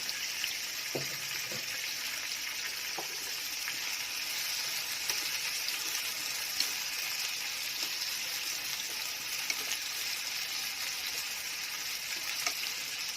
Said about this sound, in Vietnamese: Xào khóm thì cho nó chín cho nó thấm đi cả nhà